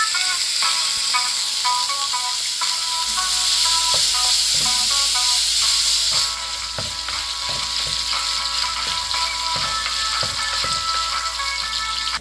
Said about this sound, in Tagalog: Sa mainit na mantika, halina at sabay-sabay tayong magsangkot siya.